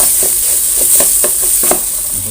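Pounded spice paste stir-fries for braised pork leg, a steady loud sizzle with rhythmic scraping strokes of the utensil about every half second, close up and without talk.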